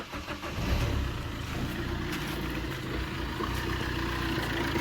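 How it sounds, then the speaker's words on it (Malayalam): A 2015 Suzuki Ritz ZDi diesel engine starting, with a brief cranking churn that settles into a steady, fairly loud diesel idle rumble close by. "നമുക്ക് എഞ്ചിൻ ഒന്ന് സ്റ്റാർട്ട് ചെയ്ത് നോക്കാം"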